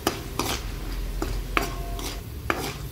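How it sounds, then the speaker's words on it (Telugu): Chana dal, urad dal, mustard and cumin seeds fry in a pan for poha upma, a spoon scraping and knocking against the metal every half second or so over a faint sizzle. "అవి కొద్దిగా వేగుతున్నప్పుడే శనగపప్పు, మినపప్పు, ఆవాలు, కొద్దిగా జీలకర్ర వేసి కలుపుకోవాలి."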